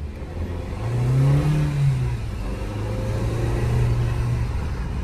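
A 2024 Jeep Renegade Longitude with the T270 1.3 turbo engine revs and accelerates in town, a loud close engine note rising in pitch, easing, then climbing again steadily.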